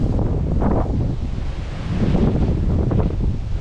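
Strong wind buffeting the microphone at the Australian Botanic Garden in Sydney, a continuous loud rumbling roar with gusty swells and no voices.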